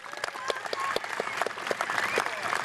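Applause at a high school graduation ceremony, a lively spread of many hands clapping with distinct claps scattered through it and faint crowd voices mixed in, steady and fairly loud throughout.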